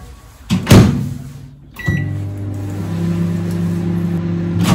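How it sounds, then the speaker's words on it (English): Microwave oven heating porridge, a steady close electric hum with its low droning bands starting after a brief clatter and running alone through the rest. "So we'll see if it's any better in the microwave."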